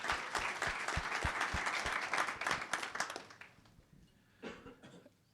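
Audience applause breaks out at a health care conference provider panel, a dense, steady patter of many hands clapping for several seconds, then fading, with a brief final burst near the end.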